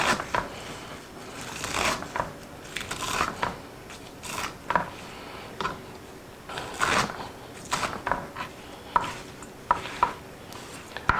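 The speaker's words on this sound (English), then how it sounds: "We're just gonna give this a rough chop." A knife roughly chopping spinach on a cutting board makes irregular clusters of dull taps and scrapes, close and steady over several seconds with small pauses between bursts.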